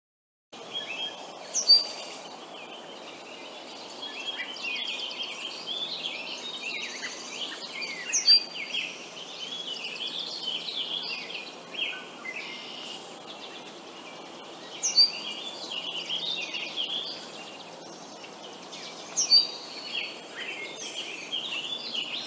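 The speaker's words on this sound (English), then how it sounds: "I actually meant to warn you guys about the red-winged blackbird in that one." Red-winged blackbird song from an outdoor bird-survey point count, loud repeated calls every few seconds over a bed of distant birds and insects.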